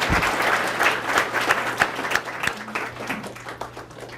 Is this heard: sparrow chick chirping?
no